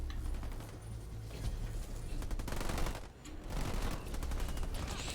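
A battle in the Halo Wars 2 real-time strategy game: continuous rapid gunfire and machine-gun bursts with grenade blasts, dense and steady for about five seconds.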